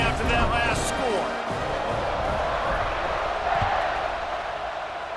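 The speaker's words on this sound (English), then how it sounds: "this crowd is buzzing after that last score" A stadium crowd in EA Sports College Football 26 keeps up a steady, loud buzz with scattered cheers throughout, with a commentator's voice running over it.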